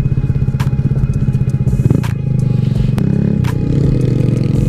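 A Yamaha TW200 motorcycle with big fat tires rides over dirt jumps, its engine chugging steadily and loudly up close, with scraping, clattering thumps as it lands and rolls over rough ground.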